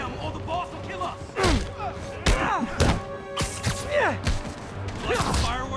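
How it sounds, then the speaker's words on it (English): Explosions and impacts in the Spider-Man PS4 video game, loud booming thuds and slams repeating over several seconds amid busy game sounds with voices. "an explosion just... I saw it"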